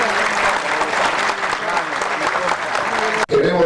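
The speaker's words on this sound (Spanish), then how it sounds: "Un aplauso." A crowd claps loudly and steadily for the president of the Dominican Republic at a public event in Villa Isabela, the applause cutting off abruptly near the end before briefly resuming.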